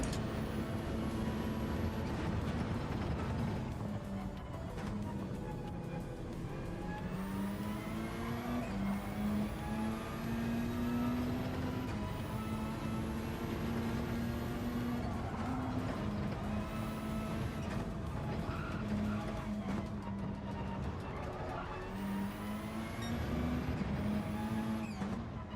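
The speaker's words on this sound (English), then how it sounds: "This car has a pretty nice squeaky sound to it when switching gears. Gotta be the blow-off" A racing car engine in Gran Turismo 7 holds a steady loud drone and climbs in pitch with each gear, with repeated shifts across the lap that each drop the pitch and bring a brief high squeak from the blow-off valve.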